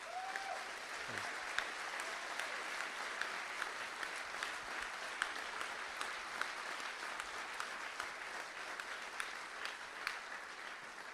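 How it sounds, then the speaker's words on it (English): An audience at the Slapstick festival in Bristol applauds the festival team, a dense, sustained round of clapping that carries evenly throughout without speech. "could we just give the team, Slapstick team, a round of applause?"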